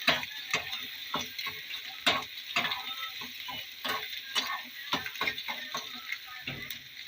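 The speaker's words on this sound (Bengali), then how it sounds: "এরপরে আমি ক্যাপসিকাম কটা দিয়ে দেবো আবারও আমি নেড়ে দেবো" Capsicum and pasta with egg and tomato stirred in a frying pan: repeated scraping and clattering strokes of a spatula over a soft, low sizzle, close and rhythmic.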